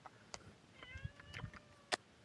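A pet cat, offered Whiskas food, gives a few soft, faint meows in a quiet indoor spot, with small clicks and light background noise between them.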